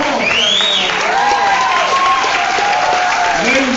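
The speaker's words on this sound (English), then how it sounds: "Ladies and gentlemen, give a round of applause." A large audience at a mayor's speech gives loud, sustained applause mixed with cheering and whistles, a continuous roar of crowd noise with shouting voices rising through it.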